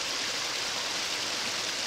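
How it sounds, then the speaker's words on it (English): Small waterfall tumbling down a hillside, a dense steady rush of falling water heard close and loud, unbroken for the whole short stretch. "Cool little waterfall. Coming down the hill."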